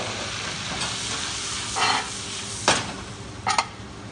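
Flour toasts on low heat in a pan for onion soup, a constant crackling sizzle with three distinct scraping stir strokes standing out against the hiss.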